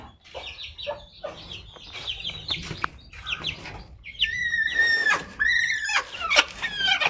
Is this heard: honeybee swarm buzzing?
no